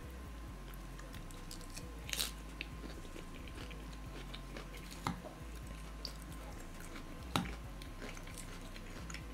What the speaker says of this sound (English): Me and my salad, I'm just eating donkey food.